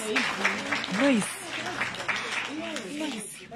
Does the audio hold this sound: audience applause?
yes